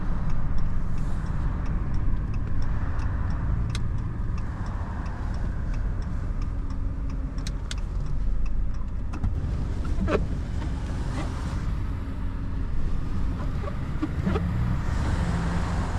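A pickup truck slowly backs a trailer into a driveway, giving a steady low engine rumble with occasional clicks and light knocks, fairly close, and no talking.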